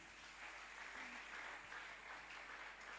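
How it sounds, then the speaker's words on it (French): A church congregation applauds in a steady, faint wash of clapping, heard from a distance for about three seconds without a break. "Est-ce qu'on peut acclamer pour vous-même?"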